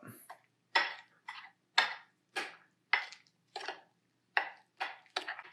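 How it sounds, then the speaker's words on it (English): A spoon stirs yogurt-based Basque cheesecake batter with vanilla extract in a bowl, making about ten short, rhythmic scraping strokes up close, with no talking. "And now let's stir this up."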